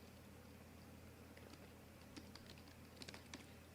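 Typing a mod name on a computer keyboard: a few faint, quick key clicks in short bursts over a steady low hum, with no talking.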